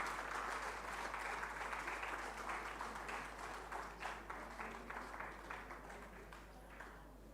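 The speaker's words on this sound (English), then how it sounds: "Let us have a huge round of applause for the wonderful musicians who just performed for us." Audience applause for musicians after a classical music performance at a festival concert, a dense sustained wash of many hands clapping that thins slightly toward the end, steady and fairly distant.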